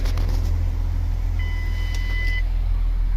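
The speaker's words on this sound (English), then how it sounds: "you can hear the car beep" Door-ajar warning chime in a 2005 Ford Escape, a single steady electronic tone lasting about a second over a loud idling engine hum.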